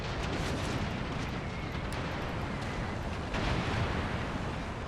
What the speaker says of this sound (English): these cannon sounds are very loud